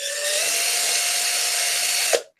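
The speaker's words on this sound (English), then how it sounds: "I'm using my drill to drill out a bigger hole." A power drill runs steadily for about two seconds, boring out a larger hole with a high whining tone, then quickly winds down and stops. The drill is close and loud, with no talking over it.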